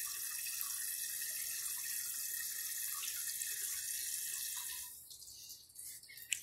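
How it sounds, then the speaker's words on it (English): Water hisses and trickles steadily as the tank of a 1995 Crane Galaxy Elite toilet refills, heard fairly quietly and alone, then tapers off near the end. "Wait for it to fill up first."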